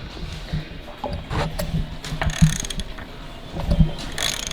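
An engine with its pulley removed is turned over by hand, giving a series of uneven mechanical clicks and ratcheting clunks, close and moderately loud, with no talking.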